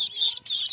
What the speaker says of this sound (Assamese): সৰুকেইটা মোৰ হাঁহ পোৱালি অকণমানিতে খুব মৰম লাগে